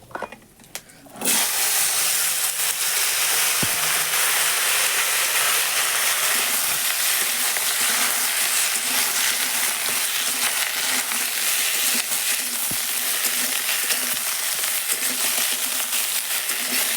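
Potatoes, flat beans and eggplant hit hot oil in a kadai with a sudden burst, then fry in a steady, dense sizzle that stays loud and close throughout with no talking.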